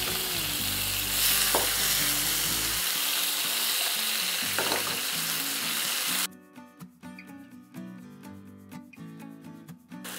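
Tomatoes, onion and garlic frying in a pan, a loud continuous sizzle that drops to a quieter crackle partway through, with occasional clinks of stirring.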